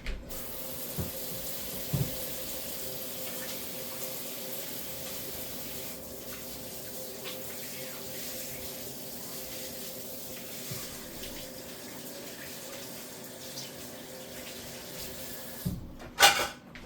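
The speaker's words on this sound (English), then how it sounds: "Let me wash my hands." Tap water runs steadily into a sink during handwashing in a home kitchen while bread is being made, a continuous close-up rush with a few small clunks near the end.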